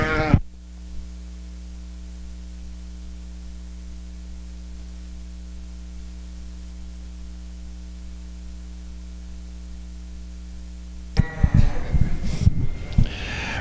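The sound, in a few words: ewes bleating in show ring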